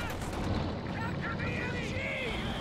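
Mortar rounds boom and rumble in the Company of Heroes 2 strategy game, heavy low thuds blending into a constant battlefield roar under a commentator's voice.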